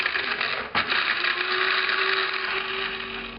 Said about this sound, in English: So these were loaded into the spice grinder.